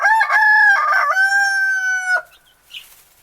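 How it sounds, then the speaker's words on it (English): A rooster in a backyard flock crows a loud, clear cock-a-doodle-doo lasting about two seconds, close by, followed by faint quieter clucks. "has the best crow in the whole flock"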